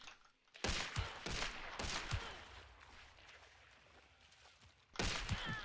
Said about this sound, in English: I'm already being shot at.